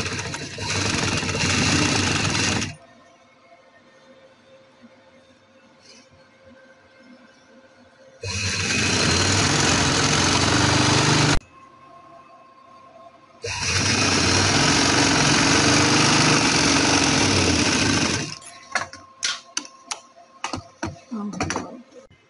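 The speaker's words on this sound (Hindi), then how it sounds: "सेम उसी तरह से सिलाई लगेगी इसके ऊपर।" A sewing machine stitching trouser fabric runs in three loud, steady whirring bursts separated by quieter pauses, close up, ending with a few light mechanical taps.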